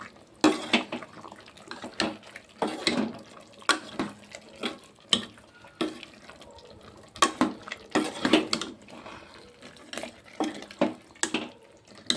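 Chicken gravy and chicken masala get stirred in a pot: a spoon clinks and scrapes against the metal in uneven bursts, close up with small wet sounds and no talking.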